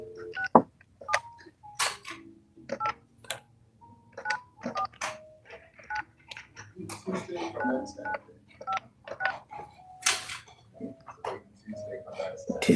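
A run of telephone keypad tones as a number for Jasper Utilities is dialed, with short beeps in an uneven rhythm. Talk and small background noises are mixed in.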